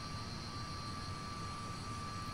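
Jet engines of a Comet airliner in the FSX flight simulator, a steady, even roar with a constant high whine running throughout, no voices present.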